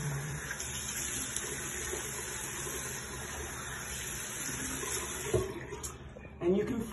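Tap water streams steadily into a sink as a face is washed at home, a close, even rush with a few splashes and handling clatters near the end.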